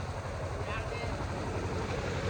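A generator engine runs steadily nearby on a rainy farm, a continuous low chugging drone, while people talk over it.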